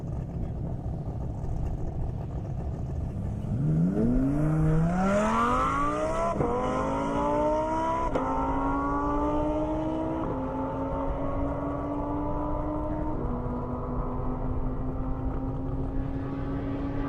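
At an airport half-mile drag strip, a Toyota Supra and a Lamborghini running on E85 fuel roar past; loud engine notes climb sharply through rapid gear shifts and hold a sustained high-powered drone as the cars pull away.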